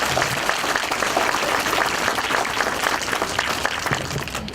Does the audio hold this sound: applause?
yes